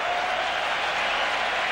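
At Wrigley Field during a 2003 playoff baseball game between the Braves and Cubs, a large crowd roars and applauds in a steady, dense wash of cheering, with the whole stadium on its feet at two strikes.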